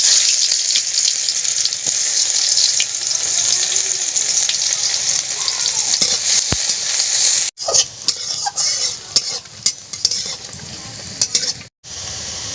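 Cumin seeds and chopped onion fry in oil in a village kitchen, a loud, steady hiss of sizzling that runs throughout, broken near the end by brief stirring scrapes and short gaps.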